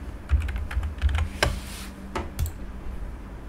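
Someone types a folder name on a computer keyboard, giving a close, irregular run of crisp key clicks with a few harder taps in between.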